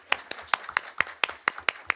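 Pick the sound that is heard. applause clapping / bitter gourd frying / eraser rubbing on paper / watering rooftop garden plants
applause clapping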